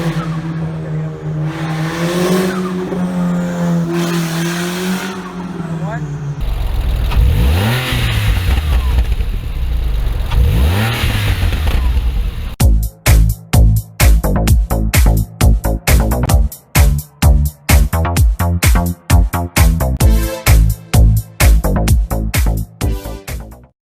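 A 1986 Audi Coupe GT's 2.2-litre inline five-cylinder engine revs loudly and close, rising and falling in pitch, then switches to a rapid, choppy series of stuttering bursts.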